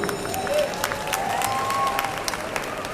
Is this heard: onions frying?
no